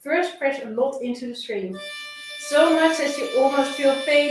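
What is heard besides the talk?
None of the usual background noises is heard.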